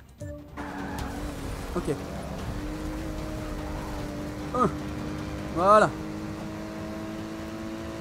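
Race cars in the Forza Motorsport 6 video game, a steady engine drone with brief tire squeals and skids, while someone speaks a few short words in French.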